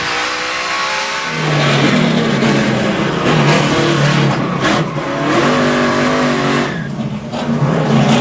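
On-board engine of a NASCAR Nationwide race car at the 2011 Napa Auto Parts 200 in Montreal, loud and close, revving up and easing off as the car accelerates and brakes through corners, without commentary.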